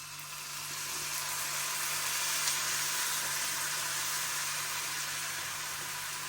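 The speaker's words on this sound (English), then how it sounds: "So I've decided to stir this sauce in." Hoisin sauce being stirred into chicken in a pan on a hob, giving a steady, even sizzle with soft stirring scrapes throughout, no voices.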